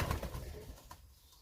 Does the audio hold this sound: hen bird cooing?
yes